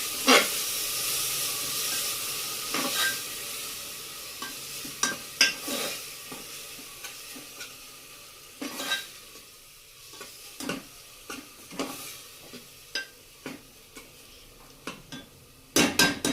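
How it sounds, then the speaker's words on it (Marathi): Ground masala paste for a pavta (broad bean) vegetable dish sizzles in oil as it is stirred, with steady frying hiss broken by repeated sharp scrapes and knocks of a spoon against the pan, no voices. "आता याला तेल सुटेपर्यंत हा मसाला मी चांगला परतून घेते"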